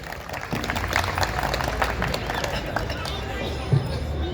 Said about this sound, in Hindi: जोरदार तालियां अखिलेश जी की